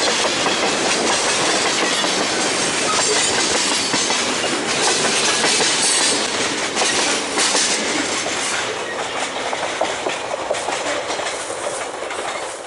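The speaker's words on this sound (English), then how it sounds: "There is nothing more relaxing than the steady beat of a train's clickety-clack on the steel rails." A freight train rolls by close and loud, its wheels beating a steady clickety-clack over the rail joints with occasional squealing, continuous throughout.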